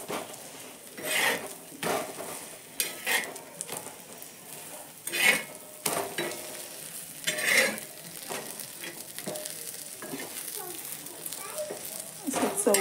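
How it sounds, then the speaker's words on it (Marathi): Beaten eggs mixed with chutney, coriander and coriander powder fry in a little oil on a flat pan, giving a steady sizzle with scraping stirs and occasional clinks of utensils, while a voice talks over it. "असे तव्यात फ्राय करायचे, थोडंसं तेल टाकून"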